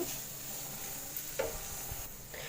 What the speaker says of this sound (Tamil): இந்த மாதிரி வந்துட்டு கலந்து விட்டுட்டே இருங்க